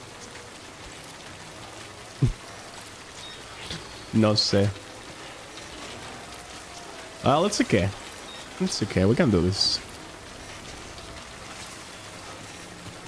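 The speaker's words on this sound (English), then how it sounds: "Nah, it's raining. It's raining everywhere." Steady rainfall in the game Death Stranding hisses softly and continuously in the background, a faint even patter beneath a man's occasional spoken remarks.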